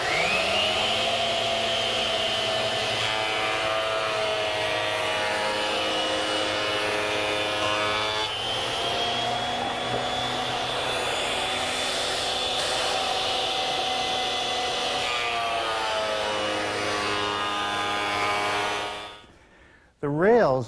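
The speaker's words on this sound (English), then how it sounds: "I'm going to remove material from this side and this side until I end up with a blank that's 2¼ inches square, using my surface planer." A surface planer planes an oak blank toward 2¼ inches square, producing a loud, continuous whining roar with shifting pitch that runs for about nineteen seconds before spinning down and cutting off.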